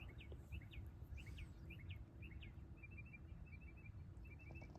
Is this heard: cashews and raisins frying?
no